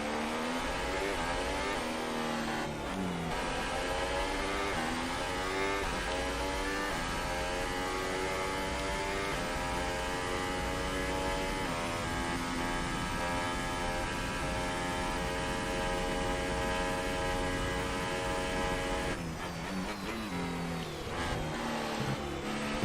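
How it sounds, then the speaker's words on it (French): Formula 1 single-seater car engine in the F1 2018 racing video game, a steady high-pitched whine held at near-constant revs for most of the stretch, with brief gear-shift dips near the start and end, no voices. "Je vous laisse profiter du son de la monoplace."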